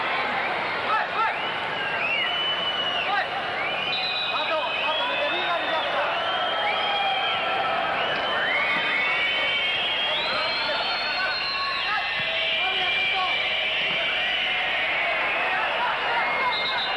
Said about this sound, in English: Crowd don't like it.